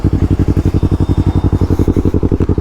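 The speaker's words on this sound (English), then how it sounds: "this is our brand new exhaust system on our Yamaha R3" A Yamaha R3 motorcycle with a full-system exhaust idles in neutral, loud and close, with a deep, even throb that pulses rapidly and steadily, with no voices over it.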